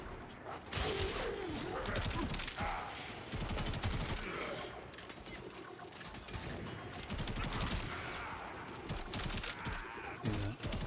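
Rapid automatic gunfire in the shooter game Warframe, dense bursts of shots rattling almost continuously with brief pauses, loud and close.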